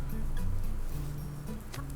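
A chicken in the survival game Subsistence clucks steadily in short, low, repeated calls over a constant background hum, close and moderately loud.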